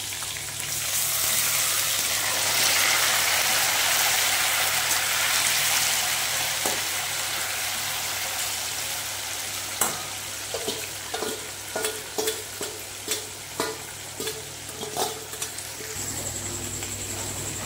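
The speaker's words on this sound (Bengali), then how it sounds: "এবার দিয়ে দেবো ম্যারিনেট করা মাংসগুলো" Marinated chicken goes into a pan of fried onions and chopped tomato for chicken malai curry, bursting into a loud steady sizzle that settles into rhythmic spatula strokes scraping and tapping the pan.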